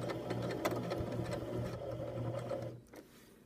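Sewing machine stitching a line through fabric and pivoting at a corner, running in a steady, fast mechanical whir of needle strokes for about three seconds before slowing and stopping, close and alone.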